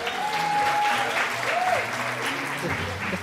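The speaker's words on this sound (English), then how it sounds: "A round of applause for Dorcas." Audience applause at a gender conference award presentation, steady sustained clapping from a room of people, with a voice briefly audible underneath.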